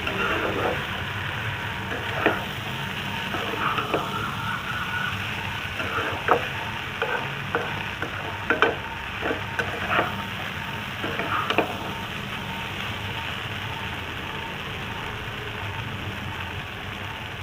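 Peas sauté with spices in a pan for aloo matar paneer, producing a continuous low sizzle with scattered light scraping and stirring clicks close by.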